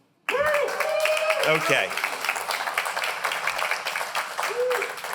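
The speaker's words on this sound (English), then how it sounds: "could you please clap and hoot and holler?" An audience at an awards gala claps and hoots from its members, a steady dense roar of clapping that runs for about five seconds, with a voice speaking briefly over it at the start.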